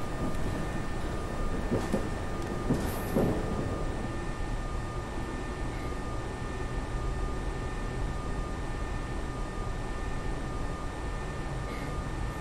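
A slow MBTA train runs in the OMSI 2 simulator game, giving a long, steady, even rumble and hiss with a few faint clanks early on and no talk.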